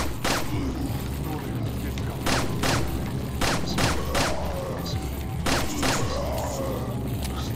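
Repeated gunshots ring out in Resident Evil 4, about a dozen sharp cracks spaced unevenly across the stretch, loud and close over constant game background noise, with a voice talking alongside.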